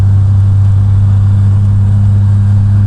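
A Triumph Vitesse MKII engine in top gear as the driver lifts off the throttle on a hill climb, a loud, steady low drone with a strong mechanical hum running unbroken from inside the car.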